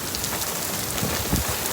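Rain falls steadily on surfaces during a tornado watch, a dense, even patter of drops that stays close and constant with no talking.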